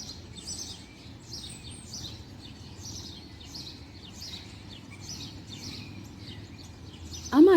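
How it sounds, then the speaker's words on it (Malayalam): Small birds chirp in short, repeated bursts from a distance on a snowy morning in Switzerland. The calls are faint and keep going over a low, steady background rumble, and a brief louder sound comes at the very end. "രാവിലെ എണീച്ചിങ്ങനെ കിളികളുടെ സൗണ്ടൊക്കെ കേട്ട് ഇവിടെ നിൽക്കാൻ സൂപ്പറാണേ"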